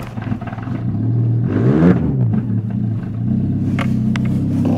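A Mazda 626 with a 1.8 engine, started cold at -25°C on 15W40 oil, is revved and its pitch swoops up and drops back, then settles into a steady, rough idle with a low rumble and some clatter, heard up close.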